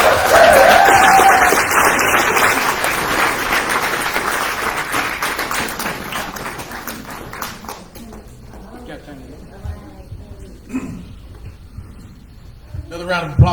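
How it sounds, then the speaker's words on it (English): An audience applauds speaker Barry Botone with loud, dense clapping that gradually thins out over several seconds, leaving scattered claps, room noise and a few voices. "Another round of applause for Mr."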